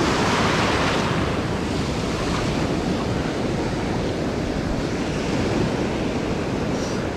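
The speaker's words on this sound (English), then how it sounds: "where these waves are breaking" Ocean surf breaks steadily on an Australian beach along the Great Ocean Road, a continuous loud wash of waves with wind buffeting the microphone throughout.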